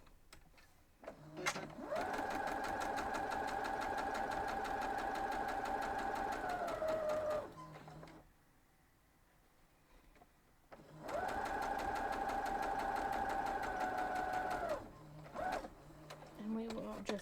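A sewing machine stitches quilt half-square triangles in two long, steady whirring runs separated by a quiet pause, with brief clicks and handling noises around each run.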